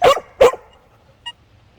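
Two sharp dog barks close together at the start, loud and near, followed by a faint short high tone and quiet background.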